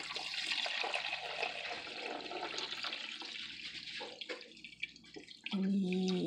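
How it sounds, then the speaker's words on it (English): Water is poured into a coffee maker, a splashing, trickling stream close by that runs unevenly, then shifts into a steadier, fuller pour near the end. "And then let's pour our water in."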